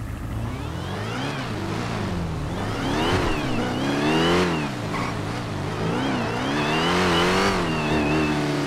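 A supercharged V8 car engine in a video game idles up close with a deep, lumpy rumble and a whine on top, its pitch swelling and sagging steadily.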